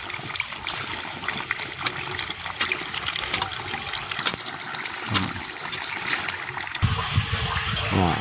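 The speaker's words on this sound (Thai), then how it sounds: "น้ำไหลแล้วครับ" Water gushes and splashes continuously from a hose, fairly close, with a sudden surge in force near the end.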